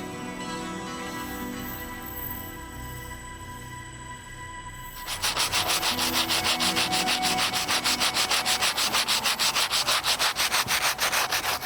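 Blunt tool tip carving a gouge into stone, a fast rhythmic back-and-forth scraping that starts abruptly after a few seconds of low hum, loud and close, with no talking.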